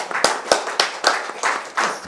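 Guests at a housewarming function clap in a loose rhythm, about eight sharp claps close by, spaced roughly a quarter second apart.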